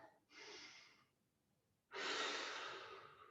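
Two audible breaths during a yoga hip exercise, a short inhale followed after a pause by a longer, stronger one, close and airy with no speech.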